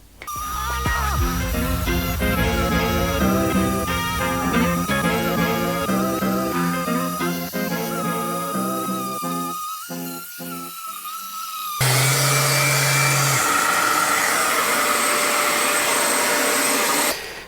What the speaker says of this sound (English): That was my homemade dust adapter for my sander.